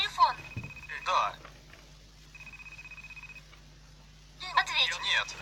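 A telephone rings in short bursts of chirping tones that return after a pause, with a quieter steady tone in between.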